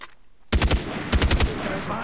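Bursts of automatic gunfire from a weapon in the video game Far Cry 3, two loud rapid volleys of about four shots each, separated by a short pause after an initial quiet stretch.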